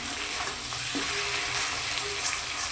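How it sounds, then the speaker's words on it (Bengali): Sizzling frying in a pan as fried potatoes are stirred into a mutton curry, with a steady crackle and occasional scrape of stirring, close and continuous with no talk. "তো আমি এখন ভেজে রাখা আলুগুলোকে দিয়ে দিচ্ছি। ভালো করে নাড়াচাড়া করে নিতে হবে।"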